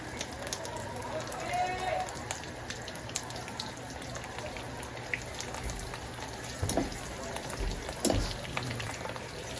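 Thin dried fish (tuyo) frying in a pan, a faint crackling sizzle under intermittent talking, with a few sharper pops and knocks toward the end.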